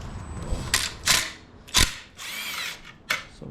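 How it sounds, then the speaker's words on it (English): Power driver or ratchet work loosening 5mm Allen bolts on a Yamaha Raptor 700R ATV: several short, loud whirring bursts separated by pauses, close up. "So we're gonna go ahead and undo those 2 bolts, take off the bracket"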